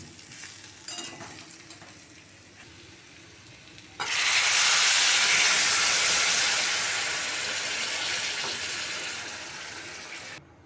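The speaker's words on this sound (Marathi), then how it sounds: "आता आपण याच्यामध्ये घालणार आहे गरम पाणी" Hot water is poured into potato chunks sautéed in spices, a faint sizzle giving way at once to a loud, rushing burst of hiss and steam that gradually eases off before stopping abruptly near the end.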